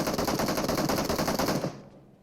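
DBS shotgun in PUBG Mobile firing a loud, fast burst of repeated blasts for about a second and a half, then cutting off into a brief fading tail.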